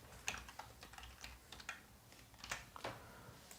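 Quiet, close typing on a computer keyboard, a light irregular run of key clicks with no speech.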